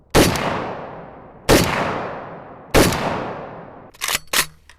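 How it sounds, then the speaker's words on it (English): Arsenal SAM7K-44 AK rifle firing outdoors: three loud, evenly spaced single shots, each with a sharp crack and long decaying echo, followed by a quicker pair of fainter reports at the end. "This is like one of those must-have AKs, I feel like, with how soft this shoots."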